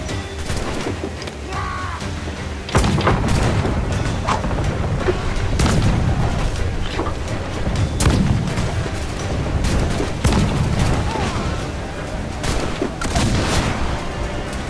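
Ship cannons firing in the naval combat of the Assassin's Creed IV Black Flag video game, a run of heavy booming blasts in irregular volleys over a constant rumble of sea and battle noise.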